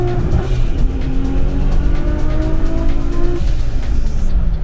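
A Lexus IS F V8 engine revs hard and bounces off the rev limiter, a loud, continuous high-pitched howl with rapid stuttering cuts as it hits the limiter, close and steady throughout.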